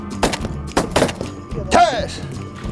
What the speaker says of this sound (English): Good shooting, guys.